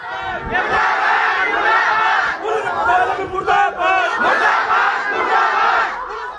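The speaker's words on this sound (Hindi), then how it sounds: "गुस्साई भीड़ ने पुलिस और जेल प्रशासन के खिलाफ खूब नारेबाजी की" Angry crowd outside a jail gate in Hamirpur shouting slogans against police and jail administration, many loud voices chanting and yelling together in bursts, close and continuous.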